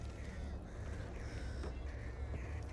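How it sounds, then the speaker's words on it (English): Crows cawing in the zombie shooter Back 4 Blood, a dense flock of harsh caws layered over a steady low game ambience with no talk. "That is so many birds."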